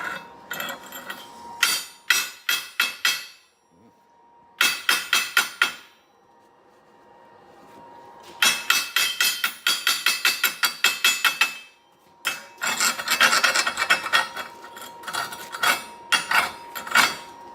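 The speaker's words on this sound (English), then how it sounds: "I'm filming, so you could clean the flux off or the slag." Slag is chipped and scraped off a 7014 stick weld bead in rapid bursts of sharp metallic taps, each run of quick clinks broken by short pauses, close and bright, with no talking.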